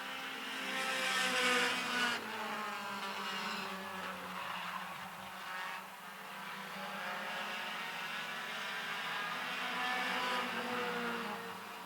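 Race cars roar around a 3/8-mile oval track, engines rising and falling in pitch as they pass and slide through the turns, heard from a distance as a continuous, moderately loud whine.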